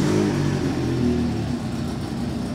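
A 400cc twin-cylinder replica of a BMW S1000RR motorcycle with fuel injection runs close by, its engine note loud and steady with a slight rev early on before settling toward idle.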